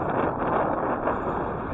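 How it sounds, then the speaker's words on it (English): Wind buffets the microphone in a steady, rumbling roar that stays close and loud, with no voices, at a lakeside waterfront park in Toronto. "So it's windy again, unfortunately."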